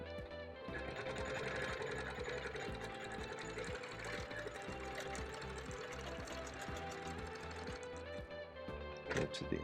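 A sewing machine stitches a bird-motif quilt panel in a steady, fast mechanical run, loud and close, continuing without pause almost the whole time before stopping near the end.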